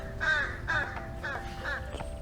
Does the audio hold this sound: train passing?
no